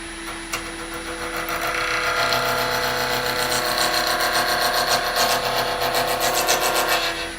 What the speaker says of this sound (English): Using a carbide cutter, you want to hold your tool parallel to the floor.